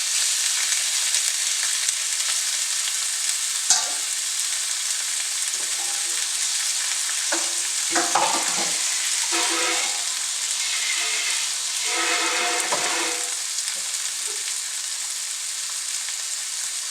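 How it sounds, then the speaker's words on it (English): Lamb loin chops sear in a hot pan with a constant, loud, hissing sizzle that fills the whole span, broken now and then by faint clicks and brief utensil scrapes. "just gonna let those simmer here. Well, more like sear, not simmer"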